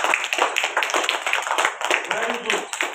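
Children in a school classroom clap their hands together for the reading competition winners, a dense, fast run of overlapping claps lasting several seconds, with voices chattering faintly underneath.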